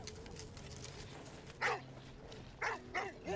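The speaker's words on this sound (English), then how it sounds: "Against all odds, a search dog picks up a scent near a buried car." A search dog at an avalanche site in Galtur in the Austrian Alps barks near a buried car, a few sharp barks in quick succession over a faint background.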